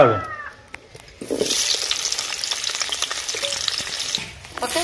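Potatoes hit hot oil with a sudden loud, hissing sizzle that holds steady for several seconds, then fades near the end, close up after a brief quieter moment.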